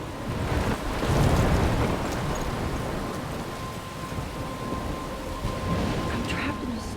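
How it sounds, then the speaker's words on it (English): A thunderstorm with heavy rain and crashing waves near a lighthouse in the video game Life is Strange, a dense, continuous roar of wind, rain and surf with a low rumble swelling throughout. "I'm trapped in a storm?"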